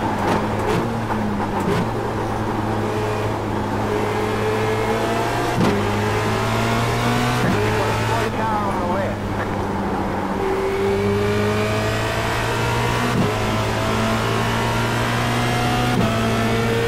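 A Formula Renault 2.0 engine at Spa in iRacing screams loudly and continuously, pitch rising through each gear then dropping sharply at several upshifts and downshifts across a lap section, with no talk over it.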